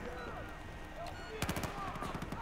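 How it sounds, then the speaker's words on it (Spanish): Gunfire in the shooter game Battlefield 4: a short cluster of sharp shots bursts out near the middle of a busy, noisy battlefield soundscape. "escucho muchos disparos, pero no veo a nadie"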